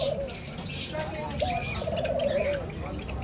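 A breeding pair of doves calls with soft coos and short chirps, close and moderately loud, against a busy bird-market background with a faint murmur of voices.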